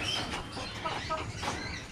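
Chickens and a fighting rooster on a rooftop terrace give short, scattered clucks over a steady background hiss, with a faint murmur of a voice.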